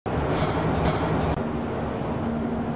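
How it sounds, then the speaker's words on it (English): A train rumbles down tracks running beside a rural road near a river, a steady, close, heavy roar of wheels and cars with no voices. "on any given day, you may hear a train coming down the tracks also, running parallel to Monty Road and the Tallahatchie River"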